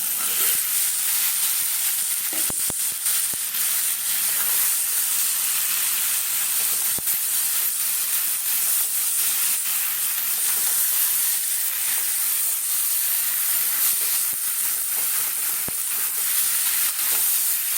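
Papaya and potato pieces hit hot oil in a pan where lentils are already frying, giving a steady, even sizzle that holds at the same level throughout with no voices.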